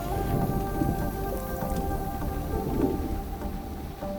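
Steady rain falls as a storm approaches, a dense continuous patter with faint low rumbles of thunder beneath, even and unbroken throughout with no voices.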